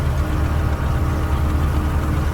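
A tractor engine in Farming Simulator 19 runs as a steady, loud low rumble, close and unbroken throughout with no talk.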